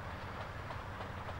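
A train passing in the Arizona RP video game, heard as a faint, steady rolling rumble with soft rhythmic clatter, distant and continuous, without any voices.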